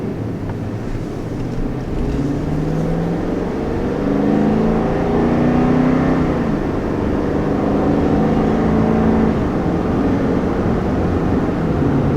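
A 2020 Toyota Tundra with a V8 engine revving, a deep steady engine rumble that swells and holds loud for about twelve seconds, with wind noise over the microphone and no talk.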